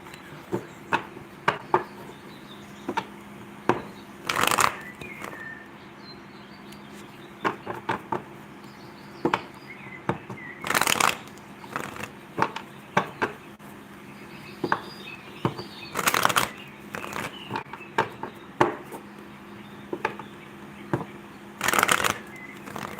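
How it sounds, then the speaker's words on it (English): Tarot cards being shuffled in repeated crisp bursts of riffling, close up, with quiet pauses between each shuffle. "I'm shuffling the moon at the bottom of the deck."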